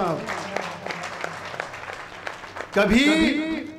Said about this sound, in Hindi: एक बार इनके लिए तालियां बजाओ ना आप।